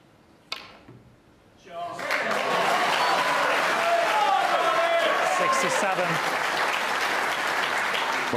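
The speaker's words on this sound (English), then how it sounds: "act of sportsmanship there, clapping for Ronnie O'Sullivan." Snooker audience at the 2020 World Championship final, last frame: after a quiet moment with a couple of knocks, loud sustained applause swells up and fills the hall for the rest of the clip.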